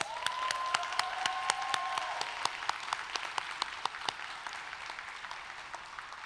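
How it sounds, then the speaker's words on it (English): An audience at a graduation commencement ceremony applauds steadily, with many hands clapping in a dense, sustained wash and a brief tone at the start. "Let's give them a round of applause."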